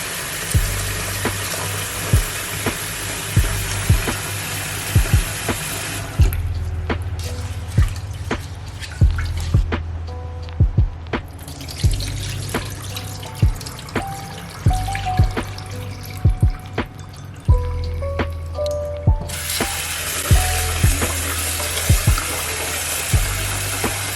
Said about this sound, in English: I'm going to wash this rice 3 times.